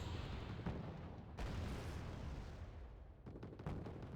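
Heavy tank gunfire in the real-time strategy game Wargame: Red Dragon, a few booming shots with rumbling decay over a dense battle din, no voices.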